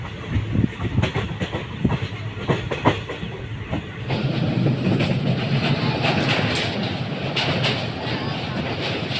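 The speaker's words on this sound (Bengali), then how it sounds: "6:28 ছেড়ে দিল নৈহাটি স্টেশন" Suburban train pulling away from Naihati station, a loud rumbling roar with rhythmic rail clatter and thumps heard from inside the carriage, growing steadier as it gathers speed.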